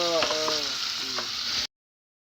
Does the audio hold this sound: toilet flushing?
no